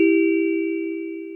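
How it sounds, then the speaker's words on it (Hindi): A house doorbell rings once with a clear sustained ding that slowly fades, heard alone with no talking. "चंदा उस घर में नौकरी के लिए जाती है और घर की घंटी बज।"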